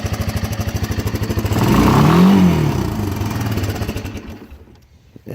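A 1984 Honda ATC 200M three-wheeler engine running just after a pull start, a loud, close single-cylinder putter that revs up in a rising, swelling surge, then settles back and cuts off abruptly near the end.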